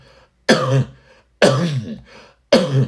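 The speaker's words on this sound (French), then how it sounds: "tu vas tousser comme ça" A person coughs hard three times at a steady pace during a deliverance prayer session. Each cough is loud, close and harsh, with short silent gaps between them.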